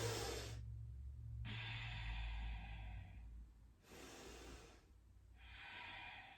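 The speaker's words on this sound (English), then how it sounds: "Deep breaths here." Slow, deep yoga breaths in a twisting floor flow: two long airy inhales and exhales alternating with short silent gaps, close to the mic and with no speech.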